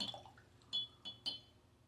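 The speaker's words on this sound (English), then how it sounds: "Put a little water there, so." Water dabbed onto a student-grade watercolor paint palette with a brush: three small, light wet clicks and taps, close and quiet, spaced about half a second apart over a soft background.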